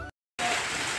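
Steady rain pours down outside a rural home, a dense hissing wash that cuts out briefly, then resumes at full strength, close and continuous.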